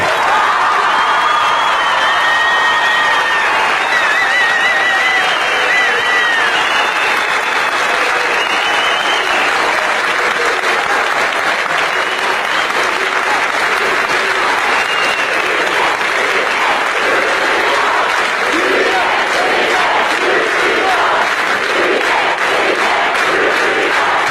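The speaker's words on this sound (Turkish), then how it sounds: "Çok yoğun bir alkış bekliyorum." A large indoor audience breaks into sustained, loud applause with cheering and shouts after a slogan is called out, the clapping dense and continuous throughout, with whoops rising early on.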